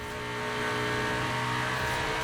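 A Lotus Esprit V8 drives down a long straight in Forza Horizon 4, its engine a close, steady drone that swells slightly as it accelerates, with no voices.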